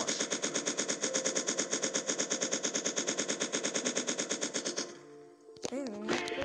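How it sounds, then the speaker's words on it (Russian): Rapid automatic gunfire in a dinosaur survival video game, a loud, sustained stream of evenly spaced shots for nearly five seconds, followed by a brief voice at the end. "А теперь расстреливаем."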